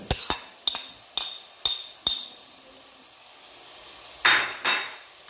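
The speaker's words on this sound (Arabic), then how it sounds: "نحركها معهم مثل ما انتم شايفين" Fried meat with onion and peppers being stirred in a metal pot: sharp spoon clinks against the rim come at irregular intervals, with a soft sizzle underneath and a rougher scrape near the end.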